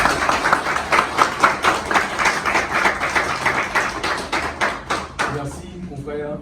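An audience at a bar association ceremony claps in a steady, rhythmic beat for a quiz laureate, the clapping loud and close before tapering off near the end.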